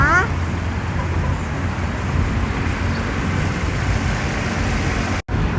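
A 2012 Toyota Corolla Altis 1.6 dual VVT-i engine idles steadily with a low, even rumble, close by and continuous, briefly cutting out near the end.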